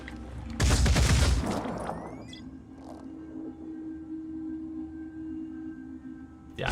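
Gunfire in the strategy game Phoenix Point: a loud burst of rapid shots with a booming low-end impact, followed by a lingering hum and faint clicks, ending with one more brief hit.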